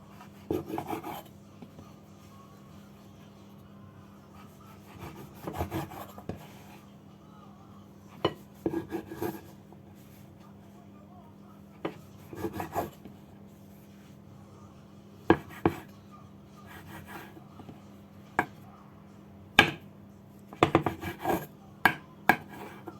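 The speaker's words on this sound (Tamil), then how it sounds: "நான் இப்போ இந்த பானுன்ற இந்த ஓரங்களை நான் இப்படியே வெட்டி எடுக்க போகிறேன்." A knife trims the crust edges off homemade instant bread, giving soft rasping scrapes and occasional light taps on a board, scattered in bursts over a low steady background hum.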